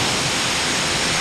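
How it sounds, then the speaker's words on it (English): Continuous rushing spray of water washing soap off the bed of a pickup truck during a deep clean, a dense close-up hiss with no pauses. "Take and wash all the soap off the bed."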